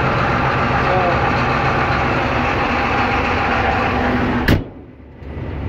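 A John Deere 8320 tractor engine runs at a steady, loud idle before cutting off abruptly near the end.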